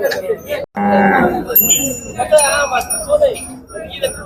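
A bull market scene in Kashti with bovine lowing and clinking bells amid crowd chatter and voices, busy and close throughout.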